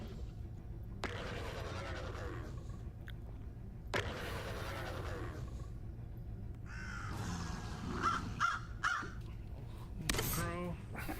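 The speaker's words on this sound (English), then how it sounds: "Crow." A crow caws several times in a role-play video game, spaced out over a steady background hum and game ambience, with a few fainter calls near the end.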